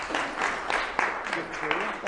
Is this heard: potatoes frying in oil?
no